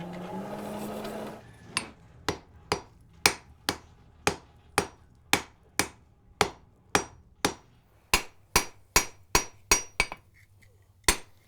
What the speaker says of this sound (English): So the first thing I'm going to do is forge the end out into the proper sized stock for the staple